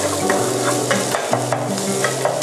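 Green curry paste fries in a small amount of coconut cream for green curry fried rice with snakehead fish, a close bubbling sizzle with periodic stirring scrapes and soft clicks over a low hum.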